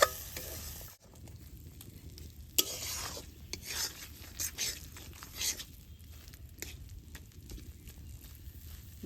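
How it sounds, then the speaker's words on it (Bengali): A mashed vegetable paste of green chilli, onion and garlic with turmeric and salt is stirred and fried in a village kitchen, giving a soft sizzle with intermittent scraping strokes, close and fairly quiet, with no voices. "সুন্দর করে নাইরা চাইরা কষিয়ে নেব।"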